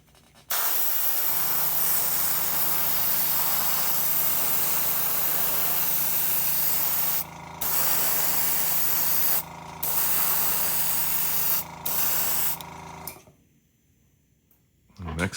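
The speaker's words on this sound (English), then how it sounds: "going with a Vallejo gray airbrush primer" An airbrush sprays Vallejo gray primer onto miniatures with a loud continuous hiss and steady compressor hum, broken by a few short pauses before stopping near the end.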